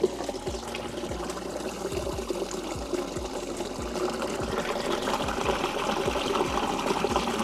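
Water flows steadily through a recirculating prospecting sluice, a continuous rushing and splashing with regular small knocks or drips, fairly close and without talk.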